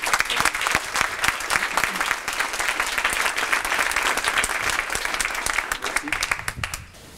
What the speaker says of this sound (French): je voudrais vraiment qu'on vous applaudisse en signe d'encouragement pour ce que vous faites